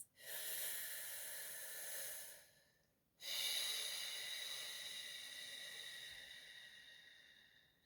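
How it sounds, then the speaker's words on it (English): Slow, deep breaths during a breathing exercise: a long airy inhale, a brief pause, then another long hissing breath, close and quiet with no talking. "Closing your eyes as you breathe."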